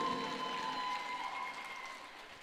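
Applause from the audience at a Hindi women's poetry gathering for International Women's Day, a soft, fading patter of clapping under a steady tonal hum.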